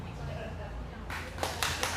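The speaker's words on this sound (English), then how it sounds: "a little golf clap from Chino" A few audience members at a stand-up comedy show give a brief, sparse golf clap, a handful of light claps coming in after a stretch of quiet room sound.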